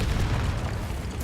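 A Confringo explosion spell going off in the video game Hogwarts Legacy, a loud, close, rumbling boom that fills the whole short moment with heavy low-end blast noise.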